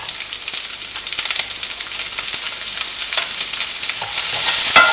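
Shredded cabbage hits a spoonful of hot oil for spring roll filling, giving a loud, dense, continuous hiss peppered with crackling pops that swells slightly toward the end, close by with no voices.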